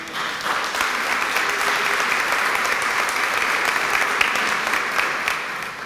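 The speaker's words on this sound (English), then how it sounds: "So let's give them a round of applause." Conference panel audience applauding steadily for about six seconds, a dense even clapping throughout with no talking over it.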